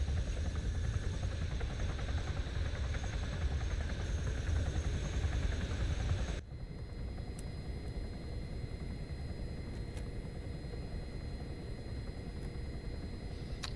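Helicopter engine from the video game Arma 3, a steady loud rotor and turbine roar that drops slightly in level partway through and then holds at a constant drone.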